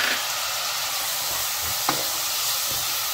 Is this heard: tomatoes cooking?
yes